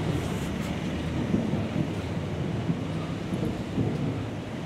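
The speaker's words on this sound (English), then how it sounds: "Ooh, that's a storm coming." A thunderstorm near Legazpi in the Philippines, with lightning nearby, rumbles as a continuous low roar of distant thunder mixed with rain and gusting wind buffeting the microphone, steady throughout.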